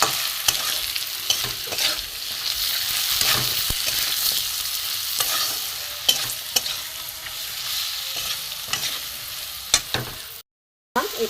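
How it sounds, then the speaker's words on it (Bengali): Ground turmeric, red chilli, cumin and coriander fry in a little oil for a vegetarian okra dish, a close steady sizzle marked by repeated scraping strokes of stirring, then a brief silence near the end. "হলুদ গুঁড়ো, লাল লঙ্কার গুঁড়ো, এখানে জিরে গুঁড়ো, এখানে ধনে গুঁড়ো দিয়ে আমি ভালো করে এটাকে কষবো"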